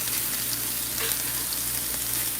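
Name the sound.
plant-based cheesesteak meat and vegetables sauteing in pan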